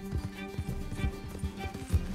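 A horse gallops in Red Dead Redemption 2, its hooves pounding in a quick, steady rhythm, fairly faint and muffled under a dense background of game music and ambience.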